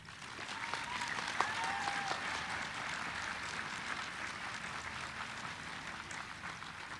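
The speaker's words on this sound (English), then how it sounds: "Let's give them an applause." Steady applause from a large audience at a spring community college commencement ceremony, a dense continuous patter of clapping hands that holds evenly for the whole stretch with no talk over it.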